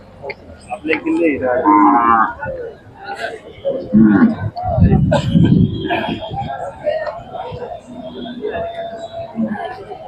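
Bulls low repeatedly at a cattle market in Sangola, with Mysore, Hallikar and Khillar young bulls for sale, the deep moos rising between busy crowd chatter and nearby talk throughout.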